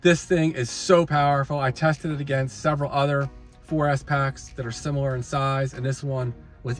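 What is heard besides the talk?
No everyday noise stands out behind the speech.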